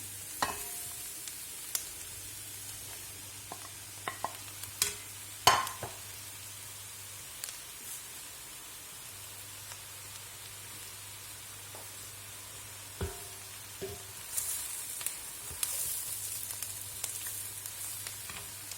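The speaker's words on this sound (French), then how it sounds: "Les oignons bien dorés. On ajoute les champignons." Mushrooms fry with golden onions in a pan, making a faint, soft sizzle with scattered clicks and pops from utensils and a low steady hum beneath, quiet and close.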